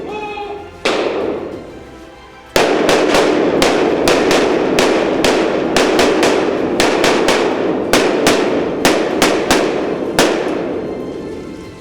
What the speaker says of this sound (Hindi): अभी ग्रेनेड फेंका जाएगा